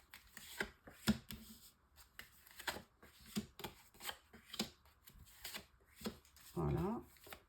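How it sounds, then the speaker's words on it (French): Oracle cards shuffled by hand ahead of a nine-card spread, giving repeated short papery flicks and slaps close by, interleaved with a voice talking. "Alors, tirage en 9 cartes"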